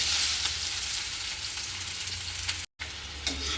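Spices and onion frying in hot mustard oil in a heated karahi, a steady, close, loud sizzle that runs continuously with a brief dropout near the end, no voices.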